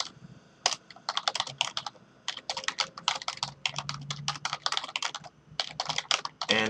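Someone types C# code on a computer keyboard in quick, uneven bursts of crisp key clicks with short pauses between them. The clicks are close and clear, with no talking.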